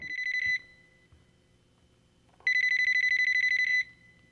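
A telephone rings twice, each a bright trilling electronic bell burst, the first brief and the second lasting over a second, loud and close with quiet between.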